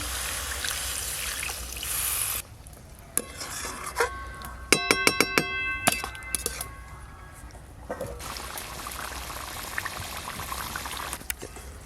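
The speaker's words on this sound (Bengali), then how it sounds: "এবার পরিমাণ মতো জল দেব" Water is poured into a pan of egg curry with spices, a hissing, bubbling pour with a run of metallic clinks partway through, then steady simmering and trickling close by.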